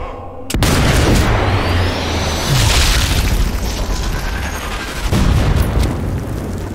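A large bomb explodes in the video game Sniper Elite 4, during a mission at Abrunza Monastery. A sudden heavy boom hits and a long rumbling blast follows, with a second deep thud near the end. No voices are heard.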